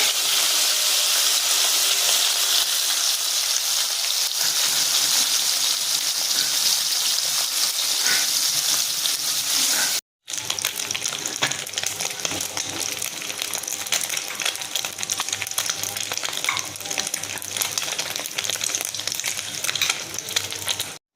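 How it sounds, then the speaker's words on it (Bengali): Mola fish fry in hot oil, giving a loud, continuous close-up sizzle that breaks off for a moment midway and then hisses on steadily without talk. "এই তেলে মাছগুলো আমি ছেড়ে দিচ্ছি। মাছগুলো আমি লাল লাল করে ভেজে নেব।"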